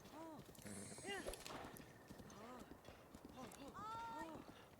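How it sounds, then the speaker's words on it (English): A horse in the video game Zelda: Breath of the Wild gallops with rhythmic clip-clop hoofbeats, close and steady, mixed with game sounds and a voice speaking over it. "I don't have to worry about my horse galloping over to me"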